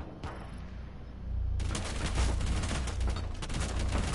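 Sustained rapid gunfire erupts in a PS4 video game after a quieter start, a dense loud burst of shots continuing to the end with no talk over it.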